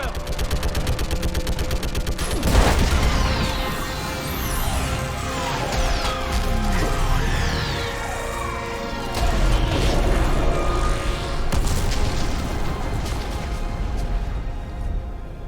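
Mass Effect 3 battle during an orbital strike, with dense gunfire, rattling automatic bursts and heavy booming explosions crashing over each other in loud waves from start to finish.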